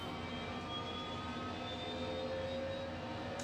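Simulated Airbus H135 helicopter engine starting up in Microsoft Flight Simulator 2020, a steady whining turbine hum with rising tones, faint and even throughout with no voices.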